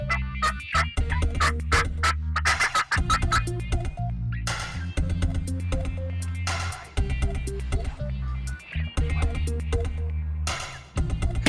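Wild turkey toms gobble repeatedly during a spring bowhunt, loud rattling bursts from several birds close by, overlapping and irregular.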